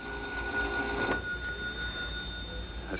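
An old-fashioned telephone bell rings in an old black-and-white science fiction film, a faint repeated ring over steady background hiss with no talk.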